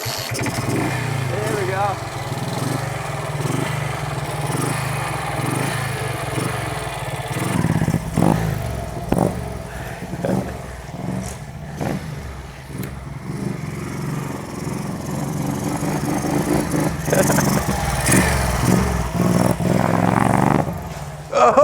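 Kick-started motorcycle engine catches and runs with choke and throttle being worked, sputtering and revving unevenly up close over most of the clip, with someone talking over it.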